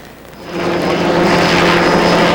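Steady droning rotor and engine noise of a Sacramento police helicopter in flight, swelling louder after a moment and holding, with a thin high whine.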